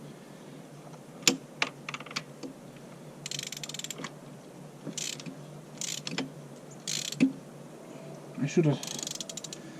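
A 3/8 ratchet tightening the thermostat bolts on a 2004 Chevy Blazer with a 4.3 V6 gives scattered bursts of quick, close metallic clicking, separated by pauses, with a brief spoken remark near the start.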